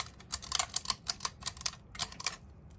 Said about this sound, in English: I like to feel the switch click.